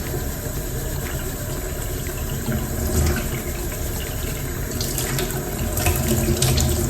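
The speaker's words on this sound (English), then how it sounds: "I'm gonna turn the tap on and wet the brush" Water runs steadily from a bathroom tap into a sink as a brush is wetted, a continuous close hiss and splash heard alone with no talk.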